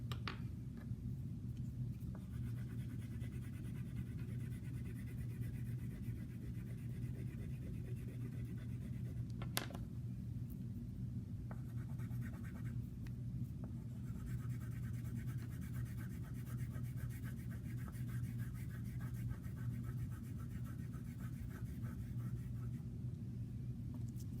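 Steady scratching of a drawing tool on paper as popsicle shapes are sketched, continuous and close over a low constant room hum, with a few brief knocks and no talking.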